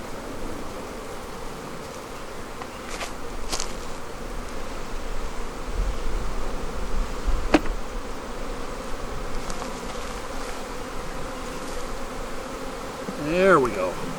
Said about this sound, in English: Bees are not too happy with me right now